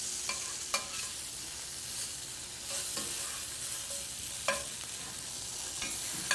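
Tofu sizzles and fries steadily in a pan while being turned, with quiet scraping and tapping from a utensil at irregular intervals. No one speaks.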